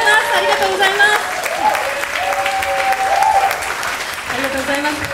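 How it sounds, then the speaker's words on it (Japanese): Sustained applause from a concert audience after a choir's summer performance, dense steady clapping filling the hall, with sustained tones and voices weaving through it. "拍手が続くわ。"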